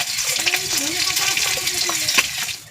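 Fish fries in hot oil in a village-style kitchen pan, with a close, continuous sizzle broken by a few sharp spatula clinks and stirring scrapes.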